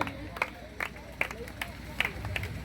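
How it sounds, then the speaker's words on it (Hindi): An audience claps for a young long-jump winner at a block-level school sports prize distribution. A few loud, spaced claps stand out against crowd murmur and chatter. "एक बार इनके लिए भी ताली बजा दीजिए।"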